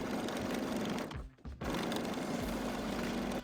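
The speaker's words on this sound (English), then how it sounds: "with the right sides together on your created textile, pin and sew 3 sides" A sewing machine stitching a recycled denim tote bag, a close steady mechanical whir that pauses briefly near the middle and then resumes running.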